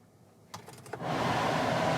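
The air conditioner in a Kia Ray car starts blowing after a few clicks of the controls, then settles into a steady, close airy rush that fills the cabin, with no voices.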